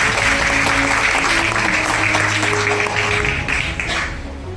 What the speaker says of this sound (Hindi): पूरी एक जबरदस्त ताली हो जाए